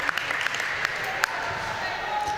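Applause from both sides of the crowd at a pickleball match at the Scottish Open, a steady patter of clapping with a few sharp slaps, heard under a commentator's voice.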